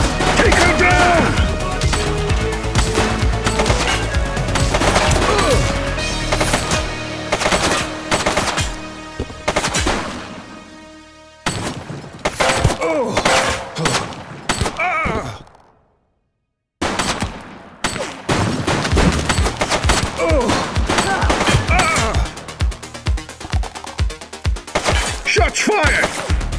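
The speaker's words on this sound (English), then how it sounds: "Shots fired!" Gunfire in a police video game: rapid, loud bursts of automatic and single shots in dense volleys that thin out, break off into a brief silence, then resume with renewed rapid firing.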